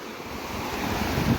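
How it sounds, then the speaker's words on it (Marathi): A full-flowing river after heavy first monsoon rain roars continuously and close by, a dense steady wash of sound mixed with wind buffeting the microphone. "नदीला पाणी भरपूर आहे"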